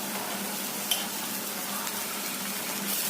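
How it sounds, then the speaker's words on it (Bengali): Ripe tomato going into a frying pan of already-fried ingredients, a continuous moderate sizzle of hot oil with a small clatter near the start, no voices. "এখন টমেটোটা ছেড়ে দেব।"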